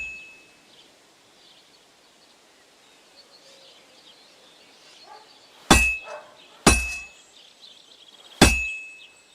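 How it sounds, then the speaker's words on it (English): A smith's hammer striking a sword blade on an anvil in the medieval game Kingdom Come: Deliverance II: three sharp metallic clangs about a second apart, ringing briefly after a quiet stretch of faint ambient background. "Now take the hammer and try hitting it a few times."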